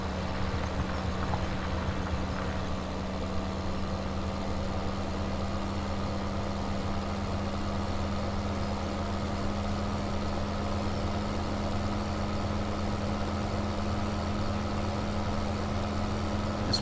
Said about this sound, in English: This tractor just almost doesn't have enough poop on these hills to get the job done.